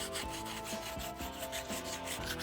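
A rasp filing the inside of a part, rapid rhythmic rough scraping strokes repeating about every quarter second, close and steady, with no voices.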